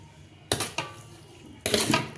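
Homemade raw mango pickle spooned into a glass jar, giving a few close clinks and scraping knocks of utensil on glass, in separate bursts with a short pause between.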